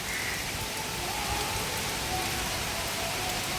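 Steady, dense rain falls throughout, a constant broadband hiss of drops hitting surfaces with no voices.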